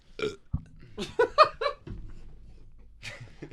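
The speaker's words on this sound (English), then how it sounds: "You just burp in his" A single long, loud, croaking belch rumbles for over a second, followed by a brief laugh.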